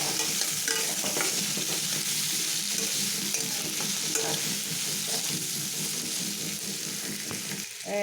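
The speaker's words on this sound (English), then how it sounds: "Add olive in, stir it, fry it till then soft." Olives and fenugreek seeds fry in a pan while being stirred, giving a continuous close sizzle with scraping stir strokes throughout and no voices.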